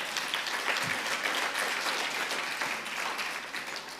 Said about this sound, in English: a round of applause for all the award winners